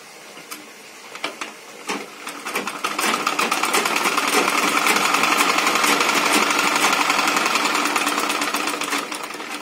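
A sewing machine stitches lining cloth into a blouse. It starts with a few scattered ticks, then settles into a close, steady, rapid mechanical whir that runs to the end.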